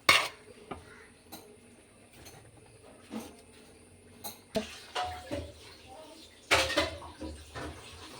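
Cooked rice is spooned into masala in a pot for biryani, giving sparse metallic scrapes and clanks of a spoon against the pot, with quiet stretches between.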